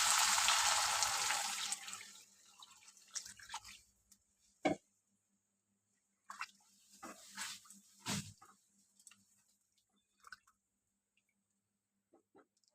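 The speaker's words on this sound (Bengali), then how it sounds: "জল দিয়ে দিই" Water is poured into a cooking pot while boal fish curry cooks, a steady rushing pour for about two seconds, then scattered drips, clinks and soft squishes in a quiet kitchen.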